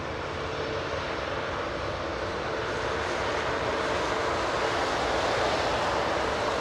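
Jet airliner with CFM56 engines roaring steadily close by at an airport, a broad continuous engine rush that holds loud and even, with no talk.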